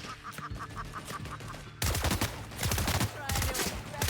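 Rapid bursts of gunfire from a weapon in the video game The Outer Worlds, loud and dense in the second half after a quieter stretch of game sound.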